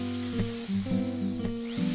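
A power drill fitted with a new bit cuts into recycled plastic during a rain barrel install. Its loud, close motor whine steps up and down in pitch over two seconds, with no voices.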